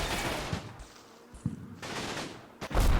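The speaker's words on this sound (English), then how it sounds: "I unhide my machine gun positions and fire on them to suppress them and make them go to ground." Machine gun fire crackles in the Combat Mission Normandy video game: bursts of rapid shots and sharp reports over a noisy battle background, moderately loud with no voices.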